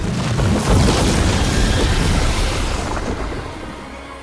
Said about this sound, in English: What does it feel like when you breathe fire like that?